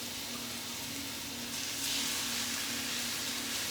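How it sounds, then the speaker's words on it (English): A steady, even sizzle of meat frying in a hot pan, a continuous crackling hiss that swells slightly partway through, with no talking. "Everybody ready for the sizzle?"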